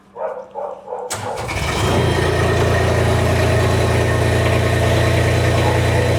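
An Avant loader's diesel engine, started cold at minus eight degrees after glow plug preheating, cranks briefly and catches, then settles into a loud, steady rough idle close by.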